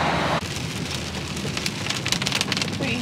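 Steady rain falls hard on surfaces outdoors at a rural international animal and truck site, a dense continuous patter with close drips, no voices.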